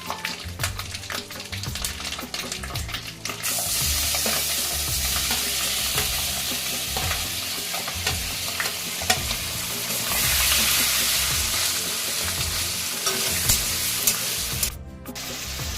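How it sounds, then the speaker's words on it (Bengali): Ground ginger, garlic, onion, green chilli and tomato spice paste fries hard in hot oil, with a loud continuous sizzle and repeated rhythmic scraping of a spatula stirring the pan. "সব মশলাগুলো এবার আমি খুব ভালোভাবে ভেজে নেব।"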